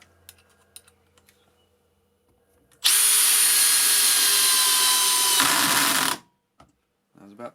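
Makita 40v hammer drill driving a 10 gauge 65mm screw, a loud, high whirring burst lasting about three seconds that slows briefly before stopping, preceded by light handling clicks and followed by quiet taps.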